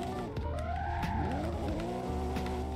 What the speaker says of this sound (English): Clean drifts.